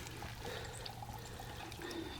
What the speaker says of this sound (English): It's just trickling just a little bit. Not a whole lot of water coming out.